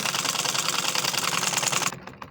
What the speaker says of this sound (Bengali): একইভাবে আমি আর একটা সেলাই করে নিচ্ছি।